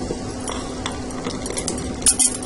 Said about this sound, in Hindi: तो इस स्टेज पे हम डालेंगे आंवले।